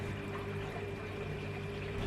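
Watery mortar, mixed thin with enough water to run easily, pours and flows into a tube, making a steady, close, continuous rushing slosh that holds evenly throughout with no talking.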